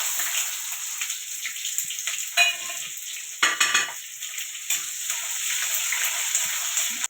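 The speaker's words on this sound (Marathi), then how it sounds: "एक चमच जिरे टाकते कढीपत्ता टाकते हा कांदा टाकणार आहे" Cumin seeds, curry leaves and onion hitting hot oil, a bright crackling sizzle that flares with a couple of louder splutters as ingredients drop in, then settles into a steady hiss.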